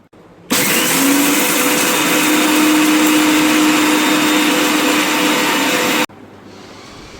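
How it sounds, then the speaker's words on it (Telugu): Mixer grinder whirring loudly and steadily for about five seconds as it grinds sesame seeds with fried onion and tomato into a paste, cutting off abruptly at the end, with no talk. "నువ్వులు గ్రైండర్లో వేసుకొని మంచిగా పౌడర్ లాగా చేసేసుకోవాలి."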